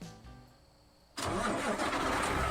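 A truck engine in American Truck Simulator cranks with a low whir, then catches and roars into a loud, steady idle rumble that carries on to the end.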